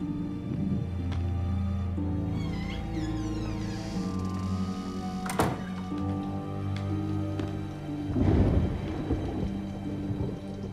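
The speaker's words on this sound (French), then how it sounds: "Arrête, Amanda, c'était que l'orage" A thunderstorm in a horror film: thunder rolls and cracks over steady rain, with a sharp clap midway and a heavier rumble near the end, layered with other film sounds.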